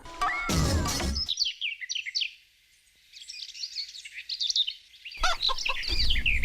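Chicken and rooster calls with bright chirping fill the opening second, then a quieter stretch of bird chatter, before loud fowl cries return at the end.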